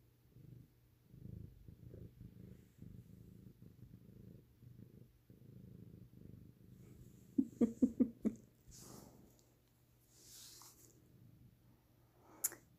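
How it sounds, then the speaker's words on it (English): A cat purrs close up with a soft rhythmic rumble, followed by a few louder breathy pulses and some quiet rustling in a hushed room. "Want to hear some kitty purrs?"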